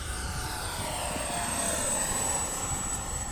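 An H-King Viper64 RC jet plane flies past with a continuous, steady whooshing whine from its fan, fairly loud and even for several seconds, with no talk over it.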